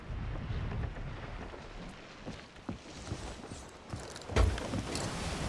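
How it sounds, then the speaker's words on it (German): Wind rushes continuously while a ship sails in Sea of Thieves, with gusty swells and a louder buffet near the end, blowing alone with no one talking. "Ach toll, der Wind kommt ja von vorne."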